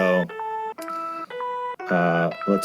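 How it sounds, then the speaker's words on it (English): Bell tones from a sample pack, layered over chords: bright chiming notes sound in a sequence of sustained hits, several distinct strikes with ringing harmonics, clear and close with no talking. "these are these cool bells that I like to use a lot, that I created, that you can layer on top of chords"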